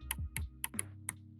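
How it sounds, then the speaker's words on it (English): Five sharp, separate keystrokes clack on a computer keyboard at an uneven pace, close and distinct against silence. "So maybe I do have to type this out and pretend I'm typing out"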